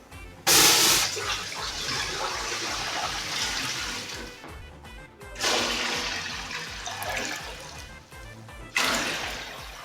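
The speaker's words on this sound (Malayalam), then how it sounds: "ഇതിലേക്ക് നമുക്ക് വെള്ളം ഒഴിച്ചു കൊടുക്കാം." Water pours in three splashy bursts into a fairly large cooking pot on a stove, with quieter running water between them and a fresh gush near the end.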